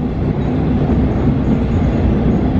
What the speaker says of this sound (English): This train is bound for airport.